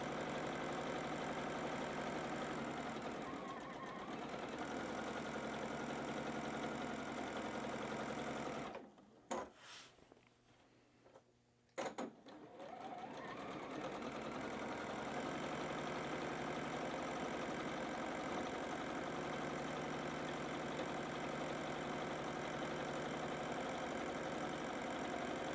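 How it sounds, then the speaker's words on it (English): A domestic sewing machine stitches quilting fabric in a long continuous hum, pausing briefly for a couple of seconds mid-run before resuming at the same steady pace, close and fairly even in level. "and keep on sewing"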